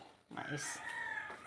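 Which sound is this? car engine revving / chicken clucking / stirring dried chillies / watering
chicken clucking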